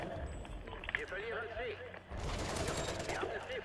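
Rapid video game gunfire bursts crackle under a voice talking, moderately loud, with a denser burst of shots in the second half, on the Bayview map.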